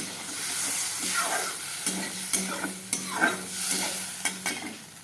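Spice paste frying in hot oil in a pan for a hilsa and rohu fish curry, a steady close sizzle broken by repeated scraping stirs of the spoon, with no talking.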